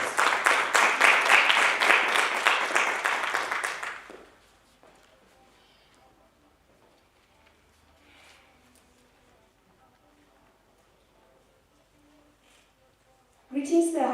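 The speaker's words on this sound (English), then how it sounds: "Give her a round of applause." A debate competition audience claps for a speaker in a short burst that dies out after a few seconds, followed by a long near-silent stretch and the start of another noisy swell at the end.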